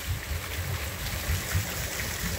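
Warm water pours strongly into a stream near a bath and pool in Bojnice, Slovakia, giving a steady, moderately loud rushing and gurgling wash with no talk.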